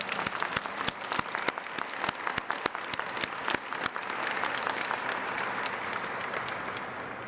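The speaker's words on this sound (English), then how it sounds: "Give yourselves a round of applause." An audience at a coalition launch claps, starting with distinct loud individual claps up close and then swelling into a dense, sustained round of applause from the crowd.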